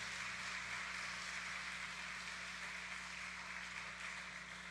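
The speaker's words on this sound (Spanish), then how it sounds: "Ese aplauso es para nuestro Señor Jesucristo." Church congregation applauding in a continuous, even roar of many hands that stays fairly steady throughout, heard at a low, distant level over a faint hum.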